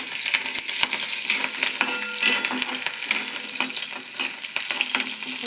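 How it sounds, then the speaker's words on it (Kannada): Chopped green chillies frying in a pan give a steady, close sizzle with crackling pops and occasional stirring scrapes, no talk. "ಆಮೇಲೆ ಹೋಳಿರುವಂಥ ಹಸಿಮೆಣಸಿನ್ಕಾಯನ್ನು ಹಾಕ್ಕೋಬೇಕು. ಥೋಡೆ ಫ್ರೈ ಆಗಬೇಕು."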